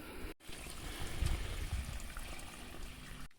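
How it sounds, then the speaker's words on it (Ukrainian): A bucket of water is poured onto the soil under a young grapevine, a continuous splashing, gurgling rush close by that swells and then tapers off, with no talking. "Під кожен кущик, який я буду підживлювати азотним добривом, пролью по одному відру води."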